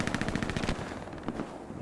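Rapid automatic gunfire rattles in the World War II shooter game Hell Let Loose, a fast burst of shots followed by a few sparser, quieter reports.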